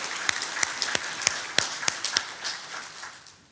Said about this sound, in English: Let's give them board members a round of applause,